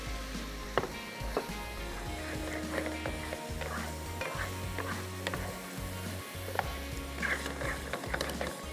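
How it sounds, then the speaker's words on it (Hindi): Masala with capsicum fries on a high flame for an achaari green handi, a soft continuous sizzle broken by repeated spatula scrapes and clinks against the pot, close by with a low hum underneath. "थोड़ा सा फ्लेम करेंगे हाई ताकि मसाला अच्छे से भुन जाए"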